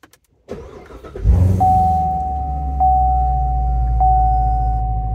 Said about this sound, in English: So I'm just going to start the car and show you guys how it works.